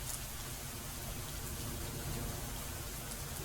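Heavy rain pours steadily and evenly, a dense continuous hiss of countless drops with no pauses, no voices and no other sounds over it.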